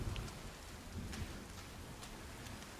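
Steady rain falls in the survival video game Sons of the Forest, a soft continuous hiss of drops with no other sounds over it.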